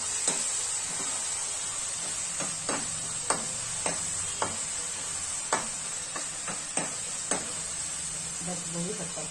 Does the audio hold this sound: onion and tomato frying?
yes